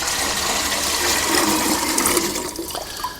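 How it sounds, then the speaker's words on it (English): Water gushes steadily into a watering can in a vegetable plot, a loud, close, continuous splashing pour that thins and tails off near the end, with no talking. "as you pour the water in, it mixes it, makes life easy"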